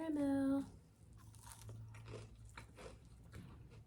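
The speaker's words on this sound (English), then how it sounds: "So I wanna see what it looks like on the inside, so let's break it." A browned butter salted caramel snickerdoodle cookie is broken apart up close, giving a short series of soft, crumbly crunches after a brief tonal sound at the start.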